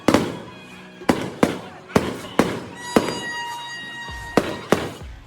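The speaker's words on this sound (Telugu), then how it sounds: "ఎందుకంటే చాలా డిఫరెంట్ టైప్స్లో క్రాకర్స్ ఉంటాయి, అవన్నీ కాలుస్తారనమాట." Firecrackers burst at a village jatara festival, a series of sharp loud bangs at uneven intervals, some with crackling tails, amid a crowd's background noise.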